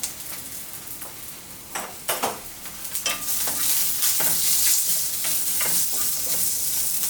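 Steak and beans seasoned with black pepper and salt fry and get stirred in a pan, starting as a quieter sizzle, then rising into a louder hiss with repeated scraping and clacking strokes of the utensil.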